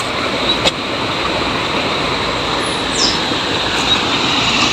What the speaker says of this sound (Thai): น้ำท่วม น้ำเข้าไร่เราหมดแล้วทุกคน